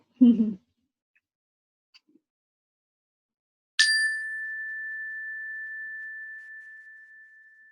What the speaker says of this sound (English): Oh, I didn't ring the bell.